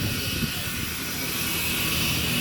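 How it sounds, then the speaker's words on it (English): A pump motor runs in a custom car shop, a steady faint mechanical hum with a constant whine above it, heard close for a short stretch. "You can hear the motor on that pump running."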